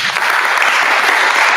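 Audience at a WakeLP meetup on Raleigh municipal elections claps in a loud, dense burst of applause that runs steadily for the whole short moment.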